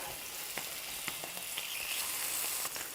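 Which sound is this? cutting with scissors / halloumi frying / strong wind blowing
halloumi frying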